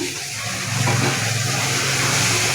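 Water pours steadily into a pan of soya chunk and avarekalu gravy for a couple of seconds, a close, continuous splashing gush that fills the whole moment.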